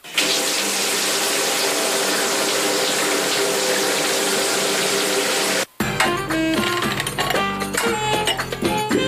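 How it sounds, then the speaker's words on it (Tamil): Hands washed under a running water tap, a steady loud gush of flowing water that cuts off abruptly, followed by music playing alone. "நான் கை கழுவிட்டு வந்துடுறேன்"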